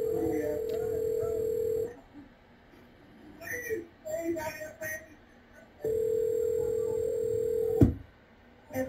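A telephone gives a steady dial tone, breaks for a few seconds of short tones and faint noises, then the dial tone resumes until a sharp click cuts it off. The sound is fairly close and clear.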